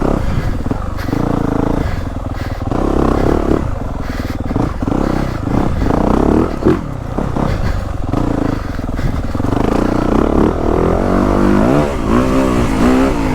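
A stock 2023 Yamaha YZ450F motocross four-stroke on a woods loop revs loudly and repeatedly near the listener, surging and dropping through the throttle with some clatter, with no talking.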